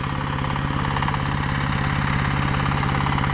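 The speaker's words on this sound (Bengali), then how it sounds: "বর্তমানে ডেমো চলছে এবং দেখুন মেশিনটি কিন্তু জমি চাষ করছে" An ACI R40 blade power tiller ploughing a field in Pabna during a demonstration, a loud, steady, close engine drone with fast rhythmic chugging pulses and no break; no talk.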